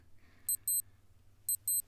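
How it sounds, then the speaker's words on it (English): An alarm goes off with two pairs of quick electronic beeps, bright and clipped, repeating once after a short pause over a low hum. "I set an alarm so I'd get off call at a decent time."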